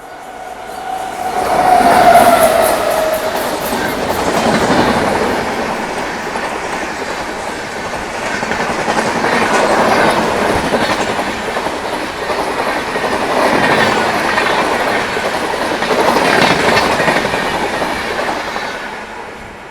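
The Golconda Express, Guntur to Secunderabad, rushes past at speed, a loud steady roar with rhythmic clatter of wheels over rail joints, swelling and fading in repeated waves.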